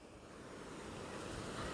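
Sea waves at a beach wash in as a soft, steady rush, faint and a little distant, with light wind on the microphone and nobody speaking.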